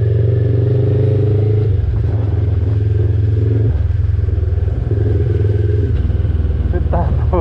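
Honda CB500 motorcycle revving hard with a slipping, burnt-out clutch, its steady loud engine drone rising and dropping in pitch across several surges with some mechanical clatter.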